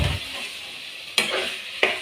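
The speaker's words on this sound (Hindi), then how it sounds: "तो अब हम इसे कर लेंगे मिक्स अच्छे से, मसालों की अच्छे से भुनाई करेंगे हम पहले इसकी।" Spices frying in a pan for a potato and egg curry, a steady bright sizzle near and clear, broken by two sharp scraping stirs of a spoon.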